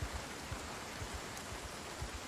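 Rain falling in the zombie survival game Project Zomboid, a steady soft hiss of drops on a surface with faint low patters, continuous and even throughout with no talk.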